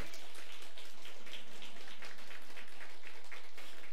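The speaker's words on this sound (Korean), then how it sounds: "그렇게 될 것을 확신하면서 박수를 한번 보내주세요" Applause from a church congregation during a Friday worship service, a steady dense patter of many hands that holds evenly throughout, with no talking over it.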